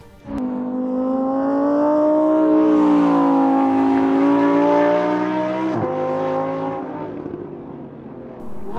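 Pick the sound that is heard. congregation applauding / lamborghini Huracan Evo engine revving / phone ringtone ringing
lamborghini Huracan Evo engine revving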